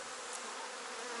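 Honey bees buzzing at an opened hive during honey super removal, a steady, soft swarm drone with no voices.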